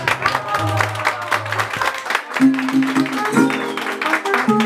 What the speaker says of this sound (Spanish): será que el mariachi se merece un aplauso